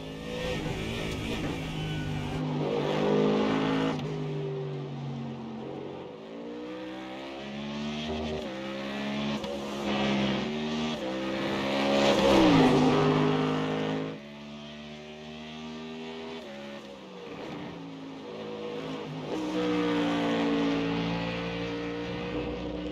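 A Ford Mustang GT3 race car's engine in iRacing at the Sachsenring circuit roars loud and close, climbing through the revs, dropping sharply at gear changes, and easing off for corners in repeated cycles.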